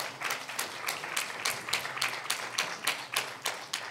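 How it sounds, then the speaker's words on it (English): An audience at the FESTPAC 2024 Ocean Summit applauds, a fairly light, quick patter of many hands clapping steadily for about four seconds, moderately distant and without talk. "give him a round of applause."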